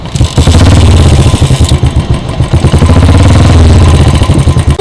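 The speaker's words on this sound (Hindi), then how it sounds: "kick start must for the royal Enfield bikes" A Royal Enfield motorcycle is kick-started and its engine runs, a loud, close, thumping beat that pulses unevenly at first and then settles into a steady, throaty idle.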